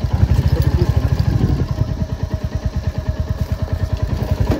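A motorcycle ridden over a rough road gives a close, steady, rapid engine chug that runs unbroken throughout, with no talking.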